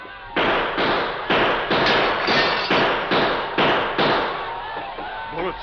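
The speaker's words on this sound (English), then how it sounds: "They won't expect gunfire from here. We'll shoot over their heads." Gunshots in a radio drama: about eight sharp, loud shots fire in a fairly even rapid sequence, each ringing out briefly before the next.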